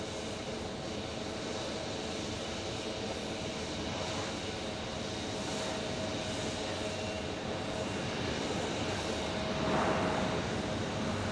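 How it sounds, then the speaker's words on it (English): Steady broadband roar of an Alaska Airlines Boeing 737 jet at Phoenix Sky Harbor airport, sustained and fairly distant, swelling slightly near the end, with no talk. "Alaska Airlines, 737 action."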